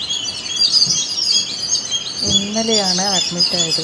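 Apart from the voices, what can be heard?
birds chirping outside hospital window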